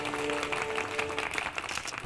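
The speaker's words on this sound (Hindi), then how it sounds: "तालियां।" A dense burst of clapping from a crowd in a courtroom, steady and continuous throughout the short stretch.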